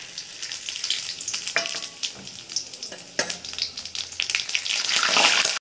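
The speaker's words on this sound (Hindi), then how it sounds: "हमारे खड़े मसाले अच्छे से फ्राई हो चुके हैं।" Whole spices, bay leaf, cumin and dried red chilli, sizzle and crackle steadily in hot mustard oil, a close, continuous fry with bursts of popping and stirring scrapes and no talking.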